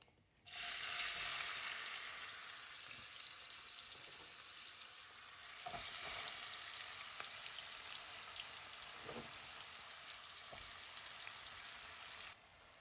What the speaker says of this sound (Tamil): இதே எண்ணெயில நம்ம இப்போ இந்த வெங்காயத்தை சேர்த்துக்கலாம்.